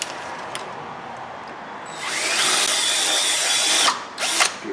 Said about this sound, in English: Put it in your favorite DeWalt drill.